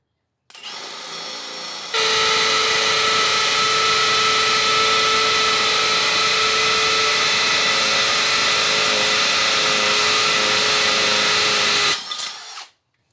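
Milwaukee hammer drill run continuously for about ten seconds, a loud, steady high-pitched whine with a strong motor tone, starting abruptly and cutting off just as sharply, with softer motor spin-up and wind-down at each end.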